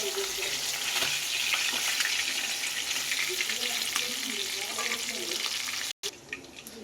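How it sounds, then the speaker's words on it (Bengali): Papda fish frying in hot oil, a close, continuous crackling sizzle with scattered pops that runs steadily before a brief cut near the end. "মাছ পুরো ভাজা হয়ে এসছে।"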